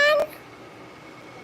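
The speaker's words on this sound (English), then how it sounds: "her meow is so much like Panny's" A pet cat gives a short, fairly loud meow at the very start, then only faint room noise follows.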